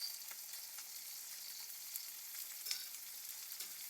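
Chilies, shallots, tomato and shrimp paste sautéing in a pan for sambal petai, a soft continuous sizzle with faint occasional stirring taps, fairly quiet and steady, no talking.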